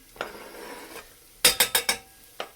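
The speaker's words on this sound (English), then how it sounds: "give it a stir through so it's coated with oil" Garlic is stirred through oil in a pan with softened onions, producing a quick run of five close, sharp scrapes and clanks over a faint sizzle, plus a few isolated knocks before and after.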